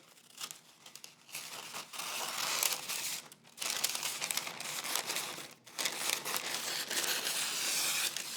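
Parchment paper crinkles and rustles while being pressed into a baking pan for strawberry crumble bars, a close, busy crackling in several bursts with brief pauses between.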